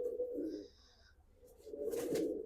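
Large pigeons of a Punjabi racing breed cooing close by, a low throaty burbling coo repeated in two bursts with a short gap between, some higher chirps over the first.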